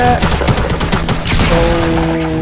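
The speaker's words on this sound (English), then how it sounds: "she opens fire and he's out of there" Gunfire in the Fortnite Battle Royale video game, with a dense volley of rapid, loud shots rattling continuously amid game effects and sustained tonal hums.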